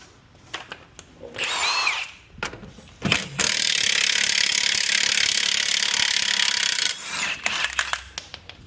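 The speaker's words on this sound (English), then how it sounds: "We got to get this axle nut off." A tool works loose the axle nut on a Mazda CX-5: a few clicks and clatters, then a sustained loud mechanical whirring rattle for several seconds before it stops, with scattered knocks around it.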